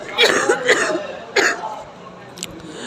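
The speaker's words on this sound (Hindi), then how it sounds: "यार खांसी नहीं मेरी जान छोड़ी, विंटर्स आ गई हैं।" A young woman coughs and clears her throat several times in quick, rough bursts, close and fairly loud, with a short pause before a final faint sound.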